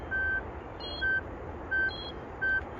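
Four short electronic beeps from an avalanche beacon sound at a steady, even interval, fairly faint against a low background rumble.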